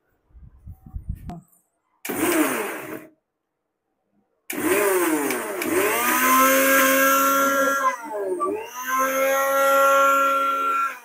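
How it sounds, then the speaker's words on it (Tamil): Kitchen mixer grinder whirring as it grinds cooled cooking ingredients, a few short bursts followed by a long loud continuous motor whine that dips and surges as the load shifts. "சூடு ஆறி இருக்கும்னு நினைக்கிறேன். வாங்க போய் அரைக்கலாம்."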